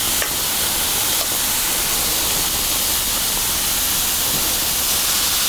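Thin steak cooking on an outdoor grill gives a steady, loud, even sizzle and hiss that runs unbroken throughout, with no talking.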